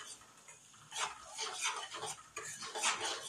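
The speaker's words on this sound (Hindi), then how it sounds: "जब तक कि इसका कलर हल्का ब्राउन नहीं हो जाए, तब तक मैं इसे इस तरह से सेकती रहूंगी फ्रेंड्स" A utensil scrapes and stirs food in a pan as it roasts to a light brown, making soft, irregular clinks and rubbing strokes close by at a fairly low level.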